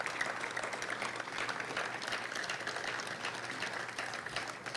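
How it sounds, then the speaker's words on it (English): Steady applause from a crowd at an outdoor groundbreaking ceremony for a Newark high school, sounding soft and somewhat distant, with dense overlapping claps sustained evenly for several seconds and no voices on top. "Let's give him a big round of applause."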